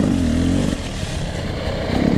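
A 2020 Beta 300RR Race Edition two-stroke dirt bike doing low-speed pivot turns, its engine burbling close by with light throttle blips and small revs, no talking.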